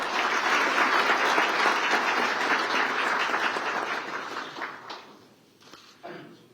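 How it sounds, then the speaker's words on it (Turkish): A full hall applauds at a Turkish military contract-signing ceremony, a thick, even wash of clapping that holds for several seconds, then tapers and dies away with a few last claps. "Alkışlarınızla efendim."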